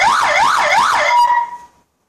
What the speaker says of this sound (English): the different sounds that this horn can make, the siren can make